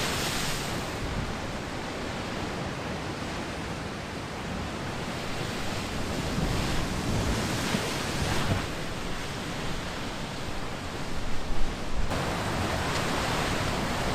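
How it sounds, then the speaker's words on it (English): Heavy surf crashes and surges continuously against a rocky shore on the southern Oregon Coast, sending spouts of water into the air, a dense roar of breaking water with a few louder bursts near the end. "the ocean waves are surging far up on the rocky coastline, sending impressive spouts of water into the air"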